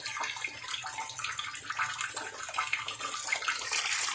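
Water gushes and splashes steadily as a 125-gallon tank drains, a loud, bright, continuous rush with no pauses.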